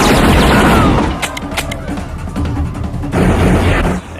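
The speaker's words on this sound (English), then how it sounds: "both Van Damme's men and Rourke's men start firing at each other" Gunfire in the action film Double Team as two armed groups shoot at each other, loud dense bursts of shots and booms up front, then a sharp cluster of cracks with a brief lull before the roar resumes.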